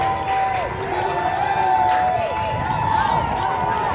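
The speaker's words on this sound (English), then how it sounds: "With a man down, the crowd is fired up." Crowd at a high school lacrosse game roaring after a goal, loud sustained cheering and shouting from the stands with whistles, an announcer talking over it.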